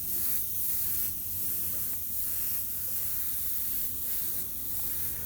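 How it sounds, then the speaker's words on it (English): Airbrush spray fogging paint from a distance onto the skin of a painted figure, a steady continuous hiss held for several seconds with slight pulsing, close and fairly loud, no talking. "I'm spraying from quite a distance away and fogging this in"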